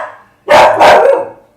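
A pet dog barks twice in quick succession, loud and close, indoors, with a brief quieter trailing whine afterward.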